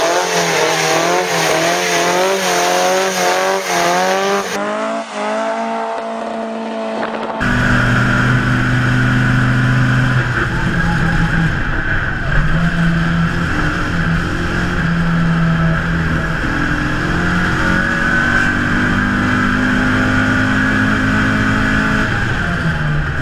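A Toyota Starlet KP62 revs hard and squeals its tires through a burnout, the engine roaring loudly and steadily while rubber screeches continuously throughout.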